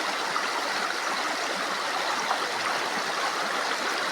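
A shallow, clear river near Angono flowing steadily, giving a continuous rushing, gurgling wash of water that stays close and even throughout, with no talking.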